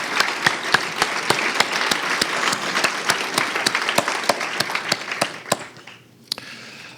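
An audience at an evening awards event applauds past award winners, a full round of sharp, individual claps that holds steady for several seconds and then thins out and fades near the end.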